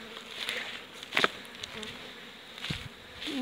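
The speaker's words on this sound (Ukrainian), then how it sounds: "Пчолки літають, я їм трошки заважаю." Honeybees flying around their hives on the first spring cleansing flight make a continuous buzzing drone with a few louder passes close by, alone without talk.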